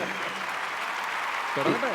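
Steady audience applause fills a stage event at a film awards ceremony, a dense broadband clatter of many hands held throughout, with a brief voice surfacing near the end.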